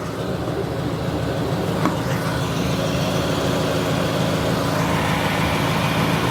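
A car's radiator cooling fan, wired by hand and switching on at about 219 to 220 degrees, runs as a steady, loud, close broadband whir with a low engine-like hum under it.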